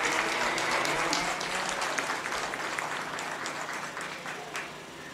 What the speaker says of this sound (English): Let's give them a nice hand.